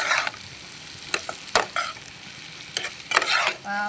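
A spoon scrapes and stirs chilli chicken pieces in a frying pan, with irregular clanks and scrapes over a low, constant sizzle of hot oil. No one speaks.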